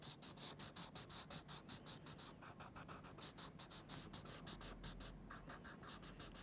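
A colored pencil rubbing back and forth on paper, rapid regular scratchy strokes at close range that go on steadily throughout, quiet and with no talk.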